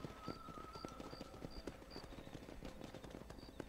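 Quick hoofbeats from a galloping horse in Red Dead Redemption drum steadily over a busy game soundscape, with faint high chimes repeating in the background.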